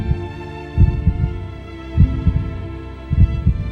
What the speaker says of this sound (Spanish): Su latido era apagado, casi imperceptible entre la indiferencia de la gente.